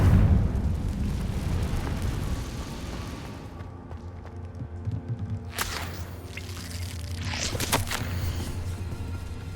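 A Confringo blasting spell bursts in Hogwarts Legacy, a loud low rumbling blast that decays over several seconds, followed by sharp crackling bursts and debris-like splashes, with no talking.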